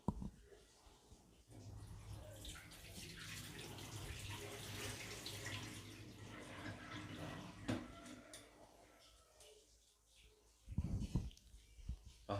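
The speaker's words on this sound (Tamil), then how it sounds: "இப்போ இந்த தண்ணியை கீழே ஊற்றிக்கலாம்." Water used to wash rice pours out with a continuous splashing gush for several seconds. It then eases off and ends in a few closer, louder splashes.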